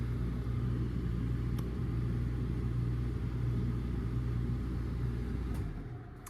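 A Forest River R-Pod 205 travel trailer's air conditioner runs with a steady, loud droning hum and rushing fan noise, continuously, then winds down and fades at the end.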